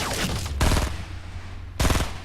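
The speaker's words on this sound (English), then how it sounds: "He's using a submachine gun." Submachine gun fire in Fortnite gameplay, two sharp rapid bursts of shots separated by a short lull, close and punchy in the game mix.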